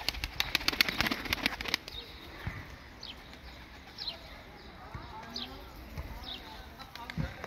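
Pigeon taking off, a burst of fast wing flaps in rapid claps close by lasting under two seconds, followed by faint rustling and soft outdoor background noise.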